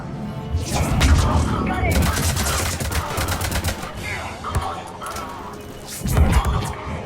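Gunfire and a grenade blast in the Mass Effect 3 battle, with a dense burst of shots, a thumping explosion and more firing, heard close while a person talks over the combat.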